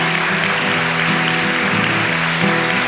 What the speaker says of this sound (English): I wish that we could give one more round of applause for